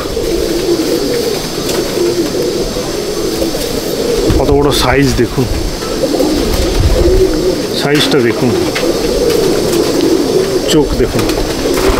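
Pigeons coo repeatedly in a loft, the soft calls running steadily beneath someone talking close by throughout.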